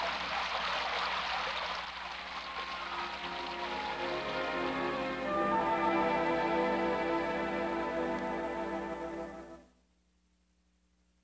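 Steady rainfall sound effect pattering on a surface, loud at the start then thinning under rising musical tones before cutting off abruptly into silence.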